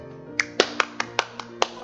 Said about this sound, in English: I'll give myself a round of applause